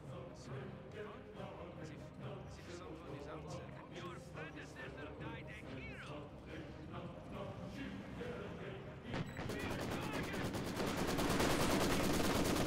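Rifle and MG34 machine-gun fire crackle through a Company of Heroes 2 battle, dense overlapping shots over a busy game soundscape that grows louder and fuller toward the end, with someone commentating throughout.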